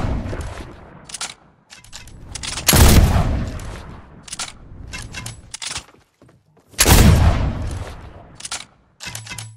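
Gunfire in the video game Fortnite: loud bursts of shots in irregular clusters, including two heavy booming blasts, with quieter single shots between and no talking.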